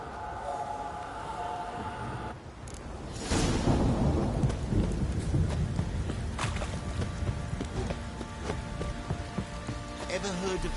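Steady rain falls in The Witcher 3, a broad hiss of drops on surfaces, with a deep thunder rumble swelling early before the downpour continues evenly.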